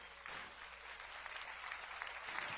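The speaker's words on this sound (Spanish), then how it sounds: "Denle un aplauso" Congregation applauding during a Sunday church service, a faint, steady wash of clapping that continues evenly from start to finish.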